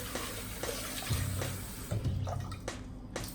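Water runs and splashes as rice is rinsed in a pot, a close, steady flow with small sloshing bursts and gurgles over about three seconds.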